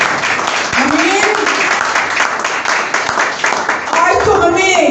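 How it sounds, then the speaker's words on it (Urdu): A church congregation claps loudly during a Christmas worship service, with a thick wash of hands mixed with voices and shouts rising over it for the whole stretch. "زوردار تالیاں خداوند کے جلال کے لیے"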